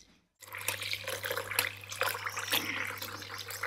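Soaked rice being rinsed by hand in water, a near splashing and swishing that starts after a short silence and continues over a low steady hum, with no speech.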